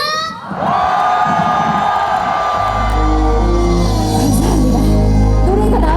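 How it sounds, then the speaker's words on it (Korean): A festival crowd at the Dangjin Gijisi tug-of-war festival cheers, whoops and claps loudly throughout in cold weather, while a deep musical backing swells in partway through. "여러분, 이렇게 추울 때일수록 더 힘차고 힘차게 박수 함성 보내주셔야 돼요."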